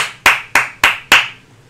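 Four sharp, evenly spaced hand claps ring out in quick succession, close and crisp, each followed by a short echoing decay in a quiet room, with no voices.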